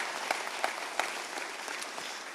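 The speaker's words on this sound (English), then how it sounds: "So one more round of applause to these guys." Audience applause at a basketball coaches' luncheon, a fairly soft, steady patter of clapping from a room of people with a few sharper individual claps standing out.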